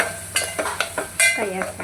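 A spoon stirs dal and greens curry in a pan, producing a few quick scraping strokes over soft sizzling, close and distinct.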